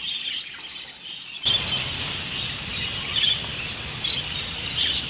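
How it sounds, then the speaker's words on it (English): Small birds chirp around a budgie's home, sharp high tweets repeating every second or so over a steady hiss of insect-like background noise, fairly close and clear with no talking. "Many other birds live around here as well"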